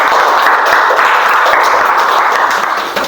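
A classroom of students claps for a presenting group, a dense, even burst of applause that holds steady and tails off slightly at the end.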